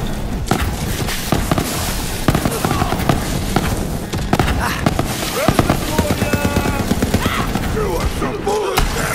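Dense barrage of many rockets firing in Borderlands 3, a chaotic stream of bursts and booms that fills the scene, with a voice talking over it.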